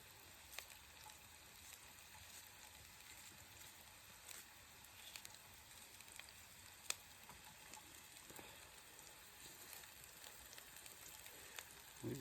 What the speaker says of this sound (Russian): Видите, все шкварчит.